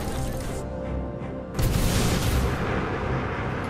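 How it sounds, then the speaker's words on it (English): Missiles launching in the Star Citizen video game, a dense roaring rumble that surges into a louder blast partway through and stays heavy and close to the end. "Missiles away."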